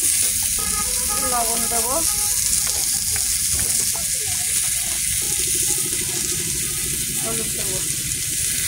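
Potatoes fry in a pan with a constant, close sizzle and occasional stirring, while a voice talks over the cooking.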